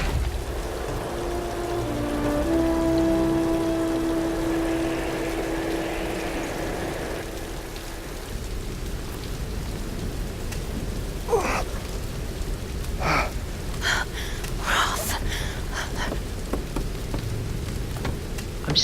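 Rain in the Tomb Raider video game, a soft steady patter under a faint sustained tone that fades after several seconds, with scattered sharp clicks and taps later on.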